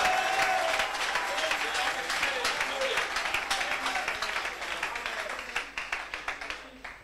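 A church congregation claps and cheers loudly for the Lord, sustained dense applause with voices mixed in that gradually thins into scattered individual claps.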